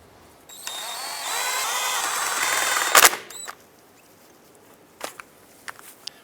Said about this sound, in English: we'll go ahead and snug them down.